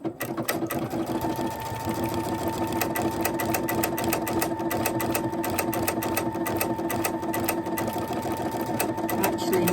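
A home sewing machine runs steadily through decorative stitching, its fast rhythmic needle clatter continuous and close, with a faint motor whine beneath and no talk.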